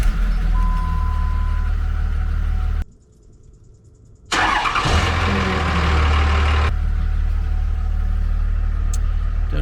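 A Cummins 5.9 diesel in a third-generation truck, fitted with a cold intake tube, fires up and runs loud and close, with a steady low engine rumble that cuts out briefly before roaring back and settling.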